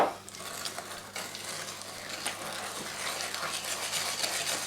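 Beaten eggs being stirred into creamed butter and sugar for a candied-fruit cake, a soft steady scraping and mixing texture with a few light utensil taps, close and fairly quiet, no talking.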